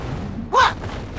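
A single sharp gunshot from the Roblox Arsenal game cracks out loud and close, standing out briefly over a steady low background hum.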